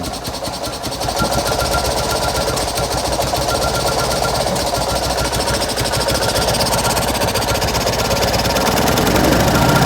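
A Fiat 126p engine running on kerosene warms up steadily throughout, a rough mechanical rattle that grows slightly louder near the end, with faint voices in the background.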